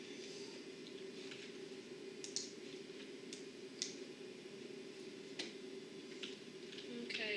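Faint, sparse computer mouse clicks, several single ticks spaced irregularly, over a steady electrical hum in a quiet room while starting a driving game.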